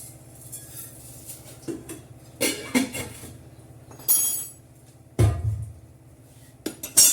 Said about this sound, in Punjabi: ਆਪਾਂ ਰਸੋਈ ਦੇ ਭਾਂਡੇ ਲਾਣੇ ਆ ਸਾਰੇ ਮਾਂਜ ਕੇ ਸਫਾਈ ਕਰਨੇ ਆ